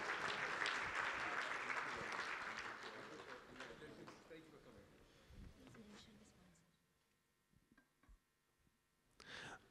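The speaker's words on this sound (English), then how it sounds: "Please a stand of applause for our winner." Audience applause at an information technology conference in honour of a raffle winner, loud dense clapping that fades out after about six seconds into scattered claps, with voices around it.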